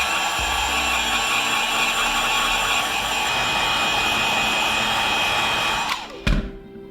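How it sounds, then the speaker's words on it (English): A heat gun blows a loud, steady rushing whir across waxy leather, then cuts off near the end with a brief knock and clatter as it is set down. "So remember the heat gun from the gold foil part? We can use this."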